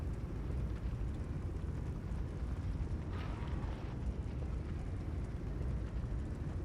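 A post-apocalyptic survival video game throws up a roaring audio bug, a constant loud, dense rumbling roar like fire or a blast that runs unbroken throughout.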